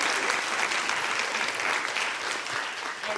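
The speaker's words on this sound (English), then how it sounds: "we all have to give them one more hand of applause" Audience at a real estate gathering applauding steadily, a dense, even wash of many hands clapping that holds at a constant level throughout with no voices over it.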